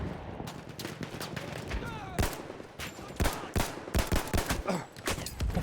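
Mosin-Nagant rifle and other gunfire crackle in Battlefield 1, sharp shots and bursts coming in rapid succession over a busy battlefield, with a voice talking beneath.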